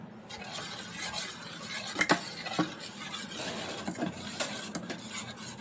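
A spoon stirring fennel powder and Kashmiri chilli powder into yogurt in a bowl, steady scraping and rubbing strokes with a few sharper clinks, close and fairly quiet.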